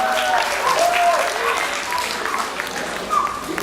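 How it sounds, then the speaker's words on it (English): Applause from an audience at a youth presentation after a performance, with clapping swelling near the start and then easing, while voices and whistle-like tones cut through over it. "Round of applause for that one."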